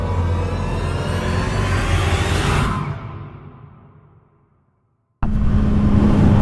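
A Yamaha R6 sport motorcycle engine roars loud and steady at high revs, winds down and fades into near-silence, then bursts back to a loud roar.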